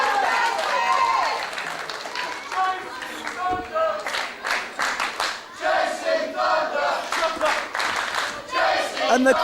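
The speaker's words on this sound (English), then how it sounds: "And the crowd again getting behind their hero JC Thunder" Wrestling fans at an IPW UK title match cheer for JC Thunder with rhythmic group clapping and chanting shouts, a loud crowd pulsing in beats while a commentator talks over it.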